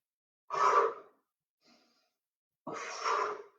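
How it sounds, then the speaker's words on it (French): Two strong exhalations during a fitness workout, each a deep, forceful breath out lasting about half a second, separated by a faint inhale, close and clear with no talking. "Souffle, inspire. Souffle, inspire."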